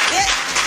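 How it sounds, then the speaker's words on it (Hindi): Audience at a Hindi comedy poetry gathering breaking into applause, a brief loud burst of clapping with a voice briefly audible over it. "तालियां हो जाए एक बार अच्छे से"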